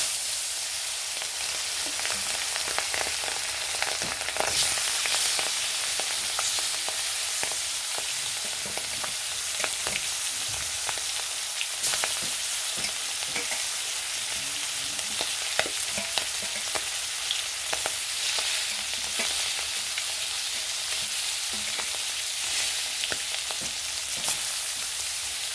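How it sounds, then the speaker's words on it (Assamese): Fish frying in a pan in a home kitchen for a fish curry, a dense, continuous sizzle and crackle of hot oil with small pops and occasional stirring clicks, close and steady with no talk. "এতিয়া মই বাকী মাছখিনি ফ্ৰাই কৰি ল'ম।"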